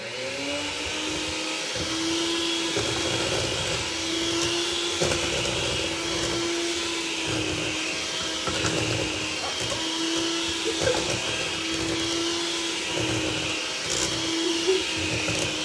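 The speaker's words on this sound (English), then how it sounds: "You can mix this by hand, but Carie likes to use the hand mixer" Batter is mixed with an electric hand mixer in a home kitchen, a steady, fairly loud motor whir that runs without a break, with faint voices in the background.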